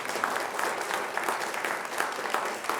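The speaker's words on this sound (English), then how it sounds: "Can we have a round of applause for both teams?" Spectators at a high school varsity quiz match applaud both teams, a steady, fairly quiet wash of clapping from a studio audience with no voices over it.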